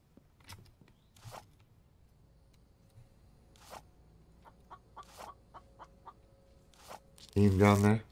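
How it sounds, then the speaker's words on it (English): Chicken clucking in the zombie survival game The Infected, a run of short, faint clucks scattered across a quiet game backdrop, ending in a louder, harsher burst of squawking near the close. "There's a chicken somewhere."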